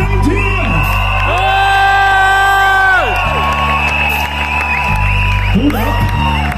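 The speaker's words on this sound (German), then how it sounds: "Ein riesen Applaus für die Kirwa-Gemeinschaft aus pfreimd hier!" A crowd at a Kirwa village fair in Pfreimd cheers, whoops and yells loudly and continuously over steady music for several seconds.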